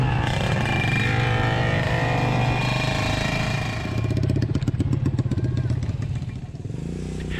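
Motorcycle ride along a rural track to a site in Lahat, the engine droning steadily and close, then shifting into a rough, rapid pulsing rattle as it works over uneven ground.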